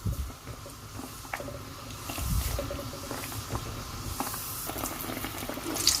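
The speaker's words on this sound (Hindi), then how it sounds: "इसके ऊपर आप इसको ऑयल डालती जाएं, यूँ डालते जाएं और इसको ऐसे फ्राई करते जाएं" Potato kachori fries in hot oil while more oil is spooned over it, giving a continuous bubbling crackle with scattered small pops throughout.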